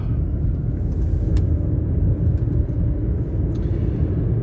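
Steady road traffic rumbles past a taxi at night, a continuous low engine and tyre roar with no clear gaps.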